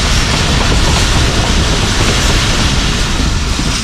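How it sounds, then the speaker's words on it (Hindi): Jaffar Express train rolling into Wazirabad Junction, a loud, steady broadband rumble of wheels and carriages with faint clickety-clack, continuous and close throughout, no voices. "हमारी ट्रेन वज़ीराबाद जंक्शन में एंटर हो रही है"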